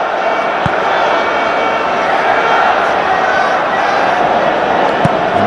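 A large football crowd at the England v Spain friendly of 2007, on a very cold night, keeps up a steady, dense roar that stays loud and unbroken throughout.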